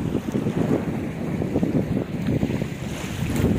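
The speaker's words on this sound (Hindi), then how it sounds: "इतनी ठंडी ठंडी हवा चल रही है, मन खुश हो रहा है यहाँ पे आके ना।" A cool wind blows at a beach in Tamil Nadu, roaring and buffeting the microphone in a steady, loud rush with surf noise underneath and no talk.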